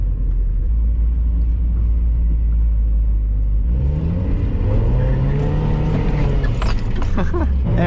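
A 1991 Mazda Miata driven hard, its engine a steady loud rumble that climbs into a rising rev partway through, with tire and road noise building as it accelerates close by.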